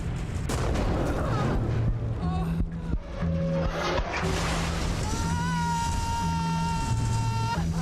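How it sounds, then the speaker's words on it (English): Deep booming explosions and rumbling destruction in the video game Close to the Sun, heavy low thuds and a sustained roar with tonal metallic groans rising over them, loud throughout. "Sounds like explosions."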